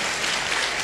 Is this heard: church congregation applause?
yes